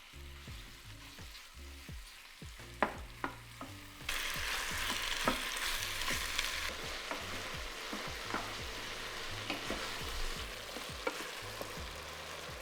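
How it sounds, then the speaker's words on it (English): Pork and beef fry in a pan over high heat, a soft steady sizzle that grows louder partway through, broken by repeated scraping and clacking strokes of stirring, with no voices. "Add the pork and beef and fry for about 7 to 10 minutes,"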